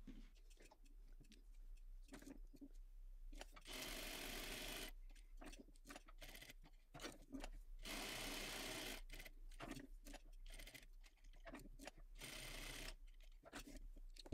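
A sewing machine stitches around a fabric rectangle for a crossbody bag in quiet, close bursts of rapid mechanical whirring, starting and stopping repeatedly with short pauses between runs.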